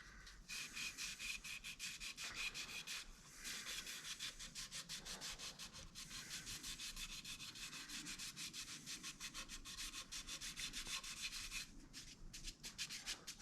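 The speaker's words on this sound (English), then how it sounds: "I'm just going to scuff it in there so it blends just a little bit" Dyed maple vase on a lathe is scuffed with abrasive to blend the color, a continuous close rasping rub with fast rhythmic pulsing from the spinning wood, steady and unbroken with no talking.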